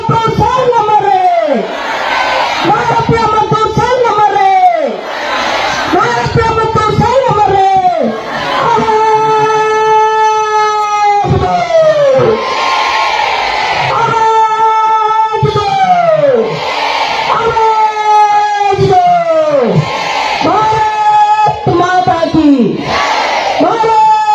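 Large crowd of Anganwadi workers at a protest rally, a loud continuous roar of many voices with rhythmic chanted slogans rising and falling throughout, dense and close.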